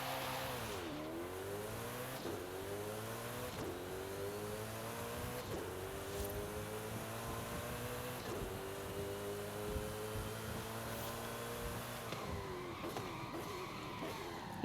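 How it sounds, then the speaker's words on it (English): Race car in the Forza Horizon 5 video game revving hard as it races, its engine climbing steadily through gears with repeated upshift dips and a constant loud drone throughout. "This car is way too fast."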